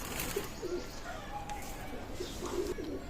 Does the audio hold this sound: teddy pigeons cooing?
yes